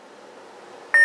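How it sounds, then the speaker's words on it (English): A short electronic beep sounds from a Korbanth K4 lightsaber hilt as its power button is held, one clear tone arriving near the end after a faint hum. "hold down the power button, you'll hear one beep"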